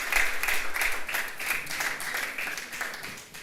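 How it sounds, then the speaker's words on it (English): A meeting audience claps through a short, fairly dense burst of applause at a network programme kick-off. The clapping fades slightly toward the end. "This is your applause."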